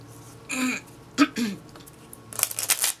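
A person clears their throat a few times in short, rough bursts, close up and fairly quiet, followed by a breathy noise.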